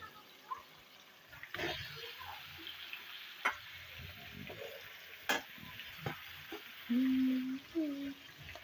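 Chicken added to a pan of tomato, ginger and garlic frying together, giving a faint steady sizzle with scattered clinks and stirring knocks, and a brief low hum near the end.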